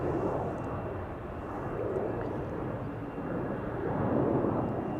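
An AirBaltic Bombardier C Series 300 jet departs Amsterdam Schiphol, giving a steady broad engine roar that rises and falls gently over several seconds. The noise is distant to moderate and has no voices over it.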